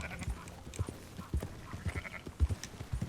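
A flock being herded in Red Dead Redemption II: faint sheep bleats mixed with soft hoof thuds and scattered low knocks, fairly quiet and uneven in rhythm.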